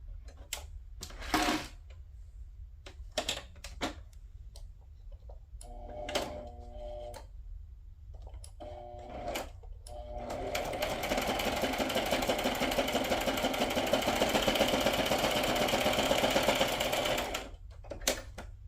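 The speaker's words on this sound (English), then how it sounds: "I am just going to sew a straight stitch there" A sewing machine sewing a straight stitch, first in a few short bursts separated by quiet pauses, then in one long steady whirring run of about seven seconds, close and with no talk.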